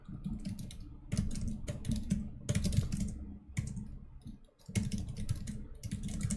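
Steady typing on a computer keyboard while coding, rapid soft clicks in bursts with short pauses, close by and alone.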